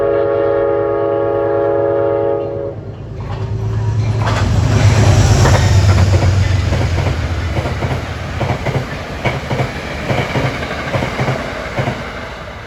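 A northbound Metro-North push-pull commuter train passes a trackside spot near Scarborough: a loud sustained horn blast opens, then the rumble swells as the train goes by close, followed by rapid clattering wheel-on-rail clicks.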